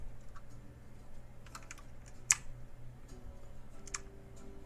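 Quick bursts of keystrokes on a computer keyboard as a terminal command is typed, light clicky taps in short runs with one sharper key hit midway, close and quiet, no talking.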